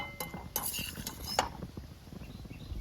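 A spoon stirs Biryani-style tomato rice in a metal pot, with irregular light clinks and scrapes against the pot that stay fairly quiet and close.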